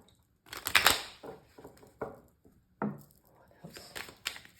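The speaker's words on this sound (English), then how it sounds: "I'm going to do a quick shuffle." Tarot cards shuffled in a quick series of close, crisp riffling and flapping bursts with short pauses between them, quiet and with no talk over them.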